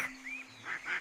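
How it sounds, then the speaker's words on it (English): A few soft duck-like quacks, faint and spaced apart over a quiet background. "Now, can you tell me how ducks sound?"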